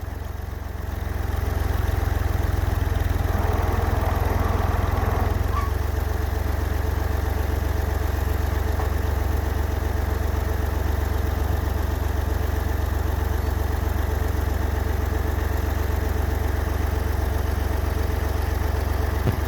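Tractor engine running while pulling a tree, a heavy, steady low diesel rumble with a constant drone that starts after a brief quieter moment and continues unbroken, loud and close, with no talk.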